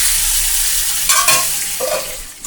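Tilapia fish and vegetables fry in a pan over medium flame, a steady close sizzle with a brief stirring scrape and clatter partway through, no voices.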